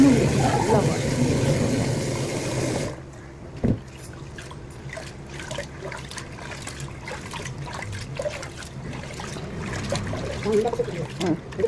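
Soaked ration rice being washed in a generous amount of water, a muffled continuous sloshing and trickling for a few seconds, then quieter faint water sounds and small clinks for the rest.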